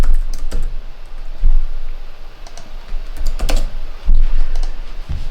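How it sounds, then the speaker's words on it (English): Fast typing on a computer keyboard at a desk, bursts of clacking keystrokes with short pauses between, close and fairly loud, with no voices. "Here I will just type what we're searching for"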